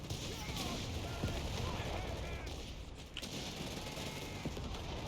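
Anti-tank shots from a Panzer squad and other weapons crackle in a 4v4 Company of Heroes 3 battle on the Oasis Depot map: overlapping bursts of gunfire and sharp reports sound over a continuous, busy backdrop of battle noise.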